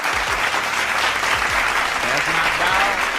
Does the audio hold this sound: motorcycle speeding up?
no